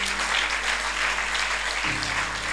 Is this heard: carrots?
no